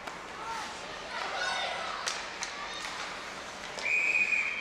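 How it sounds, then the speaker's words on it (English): A referee's whistle blows at a women's ice hockey game between RPI and Harvard, a brief shrill tone near the end over crowd noise in an arena. "And we get a whistle here."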